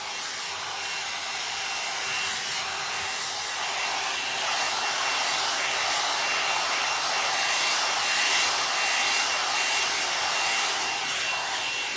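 A hair dryer blows steadily and loudly throughout, a continuous close whooshing hum while hair is blown out, with no talking.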